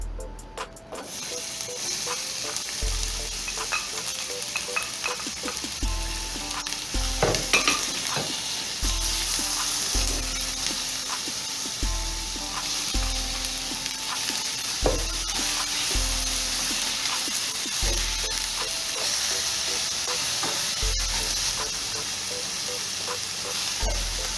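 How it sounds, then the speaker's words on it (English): Onion and sweet pepper sauteing in olive oil in a saucepan, giving a steady close sizzle and crackle with occasional stirring scrapes, alongside a repeating low rhythmic background thump throughout. "I'm going to add about 2 tablespoons of oil. I'm using olive oil, just my preference today. And we're going to saute the onion and the sweet pepper."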